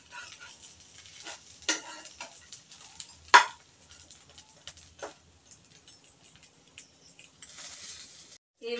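Gourd-leaf fritters coated in rice paste frying in a pan, a quiet soft sizzle with a few sharp stirring clicks and utensil taps against the pan, no talk.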